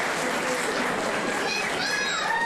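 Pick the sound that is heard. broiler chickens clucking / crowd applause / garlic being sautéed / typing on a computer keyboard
crowd applause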